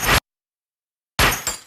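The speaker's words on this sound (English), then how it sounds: "I have a glass break in reverse." A reversed glass-break sample from a music production sample pack swells into two loud bursts separated by a second of silence.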